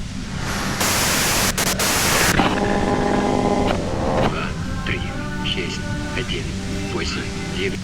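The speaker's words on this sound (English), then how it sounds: "If you've got something really important to say, you can do it through the white noise." Radio white noise in the game Disco Elysium, a loud burst of hiss giving way to buzzing, tonal interference beneath a voice that keeps talking throughout.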